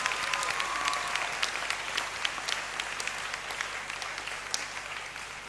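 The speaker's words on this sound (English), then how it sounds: "Let's give Ephraim a big hand of applause once again." Graduation congregation audience in a great hall applauding steadily for several seconds, a dense, even wash of many hands clapping at moderate distance, no speech over it.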